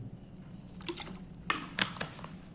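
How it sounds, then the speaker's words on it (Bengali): Water poured over six slices of bread during tiffin preparation, giving soft splashy trickles and a couple of brighter drips and squishes, close by and moderately quiet. "এইবার আমি এখানে পাউরুটিটার ওপরে জল ঢেলে দিচ্ছি"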